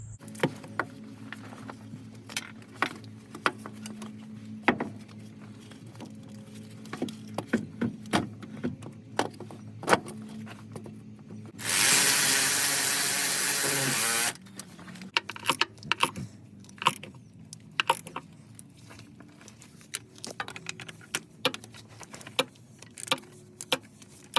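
A nut being threaded and tightened onto the starter of a Detroit DD15 truck engine: scattered metallic clicks, taps and ratchet-like ticks over quiet background, with a burst of loud hissing noise midway.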